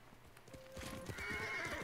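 Horse neighing in the Ghost of Tsushima video game, a sustained whinny rising out of game ambience with clip-clop hoofbeats, fairly close and loud, with no talking.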